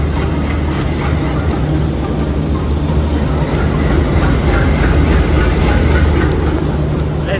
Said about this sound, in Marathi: सो आमच्या आता ट्रेन आलेली आहे बघा.